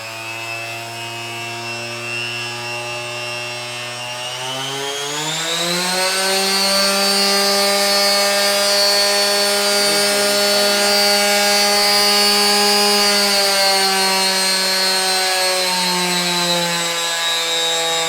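A Bosch PEX 300 random orbit sander whines steadily at its lowest speed, a strong harmonic motor tone that rises in pitch after a few seconds then holds near and loud, with no talk.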